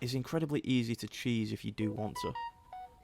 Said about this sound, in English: Sorry about that, that was my phone going off.